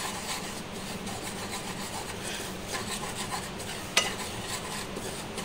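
Semolina frying in ghee for suji halwa, a steady soft scraping and rubbing of a spoon against the pan with a low sizzle throughout, and one sharp clink near the end.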